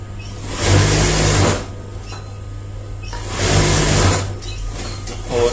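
A sewing machine stitches a blouse sleeve in two steady whirring runs, each lasting about a second, with a quieter pause between them, close and fairly loud.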